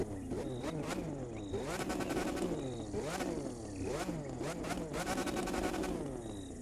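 Lamborghini Reventón in The Crew 2 racing game, its V12 engine revving repeatedly with rising and falling pitch sweeps and gear changes, loud and continuous, with a voice talking over it.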